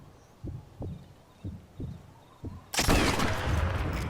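A scoped rifle fires a single full-aim shot in Sniper Elite 4. Several soft, regular heartbeat-like thumps lead into one sharp, loud report that rings out and fades slowly.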